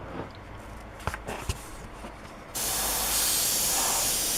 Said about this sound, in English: we're literally going to mist this on very gently